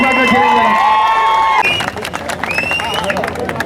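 At a birthday celebration for an MLC, a crowd cheers and claps, with loud voices and whistling tones at first, then scattered applause and chatter.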